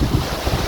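Strong wind buffets the microphone on a rooftop near a water tank, a loud, steady roar with gusty bumps and no voices.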